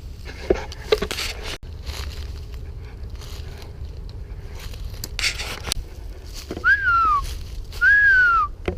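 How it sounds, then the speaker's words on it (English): A person whistles to attract a huge red-tailed hawk in a city, two loud, clear descending whistles near the end after scattered rustling, scraping and handling noises. "He responded to that whistle big time."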